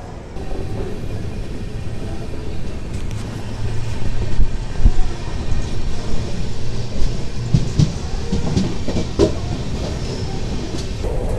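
The Chennai to Bangalore Mail Express runs on rails after departing Arakkonam Junction, heard from inside a carriage as a loud, continuous rumble and rattle with irregular wheel clatter and knocks throughout.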